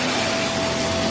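A Vax Mach Air multi-cyclonic upright vacuum cleaner runs on low pile carpet, giving a steady, loud, broadband whirring roar with a thin motor whine held throughout, close and alone.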